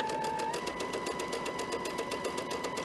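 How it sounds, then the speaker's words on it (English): A home sewing machine runs a basic straight stitch along the folded edge of fabric wraps, a steady, fast, even whirring hum with rapid regular needle pulses, close and continuous. "we're just going to use a basic straight stitch, and as I said, sew right along the fold"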